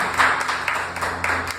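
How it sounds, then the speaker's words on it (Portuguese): A church congregation claps for Jesus during a Sunday morning service, a steady wash of applause over a low hum with no speech. "Você pode dar uma salva de palmas para Jesus?"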